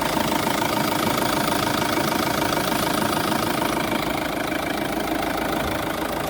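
An Opel Astra H 1.9 CDTI diesel engine idles steadily and evenly after a soot filter regeneration, a continuous close, loud drone with a faint rhythmic knock and no voices.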